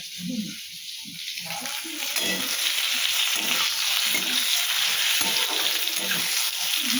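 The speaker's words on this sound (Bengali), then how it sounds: "একটু আলু ভাজা করবো" Potatoes frying for aloo bhaja in a pan, a steady loud sizzle with occasional stirring scrapes and clinks close by, hissing throughout with no talk.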